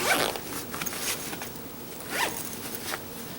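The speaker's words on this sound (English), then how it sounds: "So let me just zip this back up" A zipper on a Patagonia Black Hole Duffel 60L bag being pulled in several quick strokes, a bright raspy zip close by, repeated over a few seconds with brief pauses.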